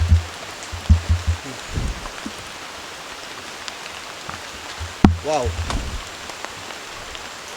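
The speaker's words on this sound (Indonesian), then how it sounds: "gerimis seperti ini" Light drizzle falls at an outdoor night campsite, a soft steady hiss under scattered voices, with a brief close exclamation partway through.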